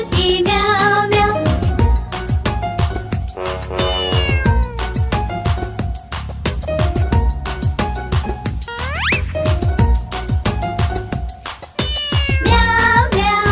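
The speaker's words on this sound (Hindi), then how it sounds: "बिल्ली करती म्याऊ म्याऊ।" A cat meows repeatedly in a Hindi nursery rhyme for kids, the mews loud and rhythmic over a bright, busy musical backing.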